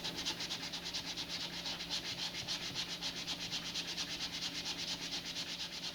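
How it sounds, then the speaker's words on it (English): Sandpaper rubbed by hand over a rocket model part, a faint, continuous rasping with quick back-and-forth strokes in even rhythm, close and without voices. "I'm going to do this by hand with a little cut piece of sandpaper rather than anything else"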